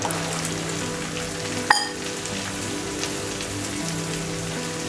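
Kochur loti (taro stolons) going into a hot pan of frying sea fish, giving a steady, dense rain-like sizzle throughout with one brief sharp clatter partway through.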